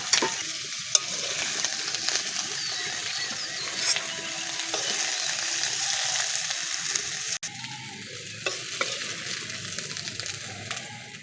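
Mustard oil sizzles steadily in a pan while onion is stirred, with occasional scraping and clinks of a utensil.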